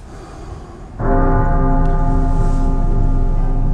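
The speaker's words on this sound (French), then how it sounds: "La cloche s'est mise à sonner." A church bell strikes once with a sudden loud onset, then its rich ringing tone hangs and sustains steadily over a low background hum, close and dominant with no talking.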